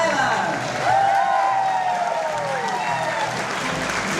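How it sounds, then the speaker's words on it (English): An audience aboard the Majestic Princess cruise ship applauds a show's star, a steady wash of clapping that swells about a second in, with whistles and cheers rising over it and staying loud throughout. "please join me in giving a huge round of applause to the star of the show right here"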